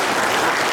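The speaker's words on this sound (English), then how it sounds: "Let's give him a round of applause." Audience at a Pro Football Hall of Fame luncheon club event claps in a dense, loud, steady burst of applause, a brief wash of hand claps filling the room with no voices.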